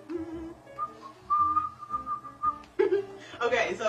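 A person whistles, imitating a chickadee's call with a few clear, sustained tones, one long held note in the middle. Soft chuckles and brief voices follow near the end.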